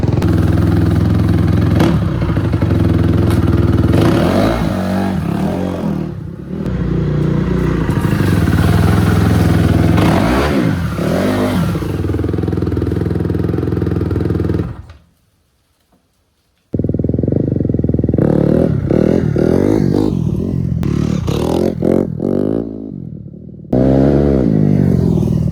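A Honda CRF 250 R dirt bike is ridden with loud, rising and falling engine revs, near then drifting away, cutting out briefly before roaring back.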